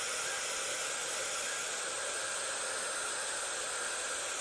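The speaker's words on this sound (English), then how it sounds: "just a white noise generator" A white noise generator gives off a constant, even broadband hiss at moderate level, unchanging and alone throughout.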